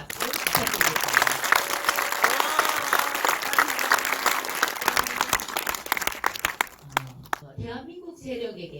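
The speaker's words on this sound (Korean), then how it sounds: "격려의 박수 부탁드리겠습니다." Warm audience applause at a film premiere screening honoring the director, dense sustained clapping from a crowd filling the room, then fading out near the end as a voice begins.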